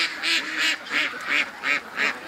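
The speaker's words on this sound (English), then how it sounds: "the ducks are uh, loving the runoff" Ducks quack in a pen nearby, a run of about seven loud, evenly spaced nasal calls.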